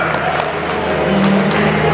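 Guests at a wedding celebration applauding, a dense and fairly loud wash of clapping and crowd noise that holds steady for the whole moment with little talk over it.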